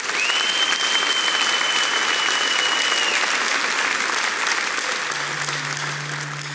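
Loud, sustained applause from a church congregation fills the whole stretch evenly, with a faint held tone drifting over it and no speech.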